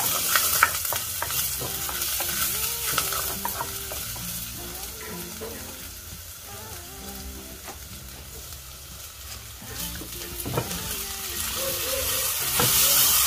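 Leftover chopped barbecue meat sizzles steadily while being sautéed and stirred in a pan, with soft scraping strokes over a continuous frying hiss, close and moderately quiet.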